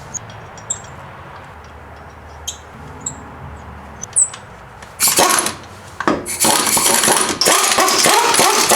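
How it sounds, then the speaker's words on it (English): Lug nuts going back onto a 2010-2013 Mazda 3 front wheel: a few light taps and clicks, then loud, dense mechanical rattling bursts up close that carry on to the end, with no talk. "I'm going to reinstall the wheel and tire, making sure everything is all in place. Reinstalling those lug nuts."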